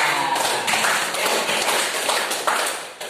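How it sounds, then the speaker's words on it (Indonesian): Students in a classroom clap together, a dense, close burst of hand claps lasting the whole few seconds. "beri tepuk tangan untuk kalian"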